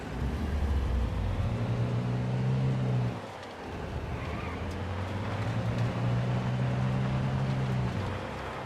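A car engine hums as it drives in the video game Sniper Ghost Warrior 3, a steady mid-level drone that dips briefly in the middle before resuming at an even pitch.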